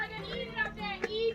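Boys play and chatter inside a monumental burial building, their voices faint and distant, echoing softly in the background at Verdon Gorge, France.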